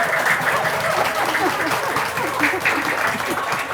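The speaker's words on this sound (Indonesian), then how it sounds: "Ada yang tepuk tangan di depan nih." Audience applause at an Indonesian religious talk event, a steady wash of clapping lasting throughout with a voice speaking over it.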